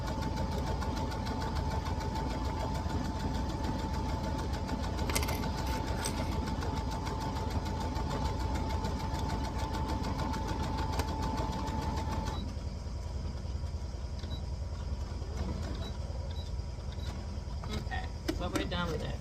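A sewing machine hums continuously up close while stitching a seam in vintage bedsheets for a dress pattern, a steady motor whir that drops off partway, with a few light clicks near the end.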